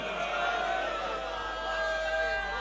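A large crowd at a religious gathering shouts a slogan together in a sustained, loud roar of many voices blended into one continuous cry.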